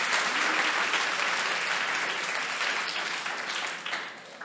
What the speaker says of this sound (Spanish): Un aplauso para Octavio.